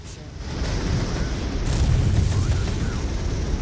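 In the Regiments war video game, an A-10 strike on armour sets off a heavy explosion: a sharp onset swells into a loud, sustained low rumble that holds to the end of the clip.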